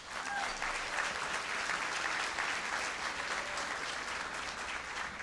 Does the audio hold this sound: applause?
yes